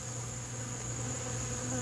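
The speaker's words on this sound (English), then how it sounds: "There's a bunch of bees in there trying to get it." Steady insect buzzing of bees, continuous and fairly close, with no voices.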